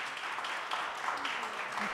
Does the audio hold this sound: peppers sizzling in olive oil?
no